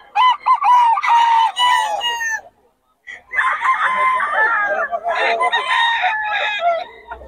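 A yellow-legged hatch gamefowl rooster crows loudly and close at a market, giving several long crows with clucking between them and a short pause in the middle.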